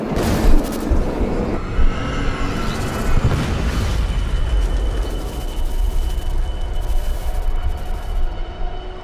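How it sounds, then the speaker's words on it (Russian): An explosion in the video game Deus Ex erupts with a deep boom and rumbles on, with heavy crashes and a sustained loud roar that slowly settles into a low, noisy din. "И чтобы здесь прогремел взрыв."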